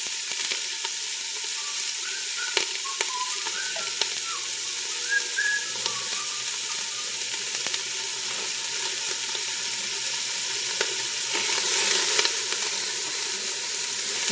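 Reuben soup ingredients cook in a pot on a stovetop, giving a steady, soft sizzle with faint bubbling and occasional light clinks, continuous and fairly close throughout with no talking.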